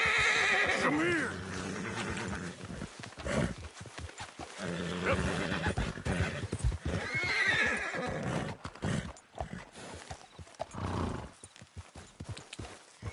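Horse hooves clip-clop steadily while a horse neighs and whinnies several times in Red Dead Redemption 2, mixed with other game sounds and brief voices.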